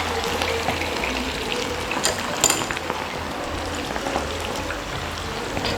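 Sliced onion drops into hot oil for a Spanish omelette and sizzles in a steady, close, fizzing wash with small crackles throughout.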